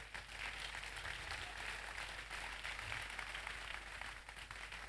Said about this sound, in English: If you want to clap, clap well.